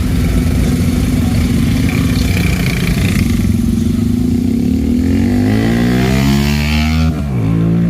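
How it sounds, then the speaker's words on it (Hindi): Motorcycles pass in jammed city traffic, their engines loud and close, revving and rising in pitch as they move by, layered over a constant rumble of surrounding vehicles with no talking. "और ये बाइकर वगैरह भी जा रहे हैं,"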